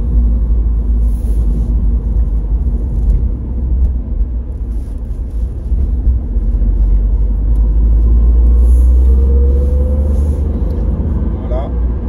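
Inside a 2021 Renault Twingo with its small engine while driving toward the motorway: a steady, loud low engine and road rumble fills the cabin and swells slightly as the car speeds up, with people talking over it.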